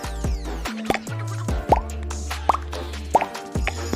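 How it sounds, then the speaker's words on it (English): Bright pop sound effects from a mobile video editing app, several separate plops spaced about every three quarters of a second, crisp and close with no talk. "I have the pop sound effect."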